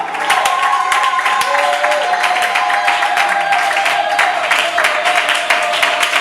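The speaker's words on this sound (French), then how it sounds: "Est-ce qu'on peut exagérer avec des acclamations, des cris de joie?" A church congregation at a Sunday service applauding and crying out with joy, a loud, continuous wash of clapping and cheering voices throughout.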